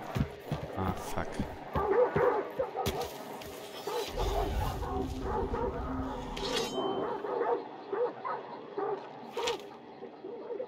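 Dogs in the multiplayer horror shooter Hunt: Showdown bark, yip and whimper repeatedly at mid distance, mixed with game ambience and a heavy low rumble, while someone talks over them.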